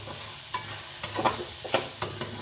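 A utensil scrapes and stirs through mussels roasting in a hot pan, several short scraping strokes over a soft sizzle.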